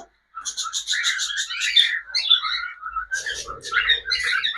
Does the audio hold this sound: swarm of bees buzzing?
no